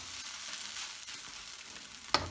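Rice fries in a hot pan with a steady, moderately quiet sizzle, ending in a sharp clink of a utensil against the pan near the end, and no one speaks.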